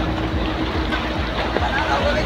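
Jet ski speed bike running on the sea at a Goa beach, Baga, its motor droning steadily amid wind and breaking waves, loud and close throughout.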